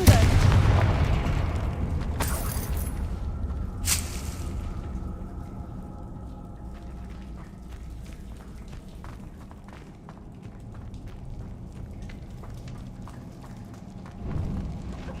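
A Confringo fire spell bursts in Hogwarts Legacy with a booming explosion near the start and a few sharp blasts after, then a low rumbling tail under game sounds.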